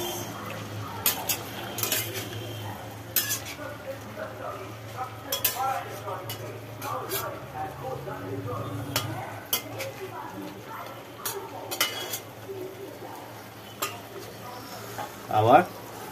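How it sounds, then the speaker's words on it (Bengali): Fish and eggplant curry stirred in a pan, with repeated metal scrapes and knocks of a spatula against the pan over a low sizzle, spaced irregularly, while a person talks at intervals. "এবার একটু নাড়িয়ে চাড়িয়ে"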